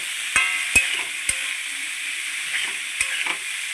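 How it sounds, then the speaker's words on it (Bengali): Fried potatoes, chickpeas, ginger, chilli and tomato are stirred in a pan, a soft steady sizzle punctuated by four or five sharp spatula knocks against the metal, close and without talk. "দিয়ে আমি এটা ভালো করে নাড়বো"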